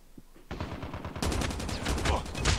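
Rapid gunfire in the mobile shooter Call of Duty Mobile, sharp repeated shots starting as a burst then becoming a dense, loud automatic volley with no talk over it.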